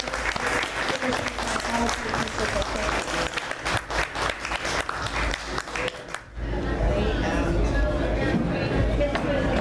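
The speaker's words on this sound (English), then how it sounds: "Can you please applaud for them?" A crowd at a cannabis festival seminar applauds the panelists with loud, dense clapping and scattered voices in the room, then the clapping stops abruptly and gives way to steady crowd murmur and low hum.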